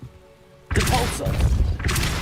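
A Depulso spell is cast in the video game Hogwarts Legacy, a sudden whooshing burst of force followed by thudding impacts and rumbling, then a second surge of magical energy.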